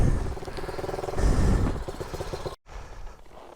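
Three bikes' engines run together with a rough, throbbing close rumble and clatter, swelling briefly before a sudden cut and a quieter continuation.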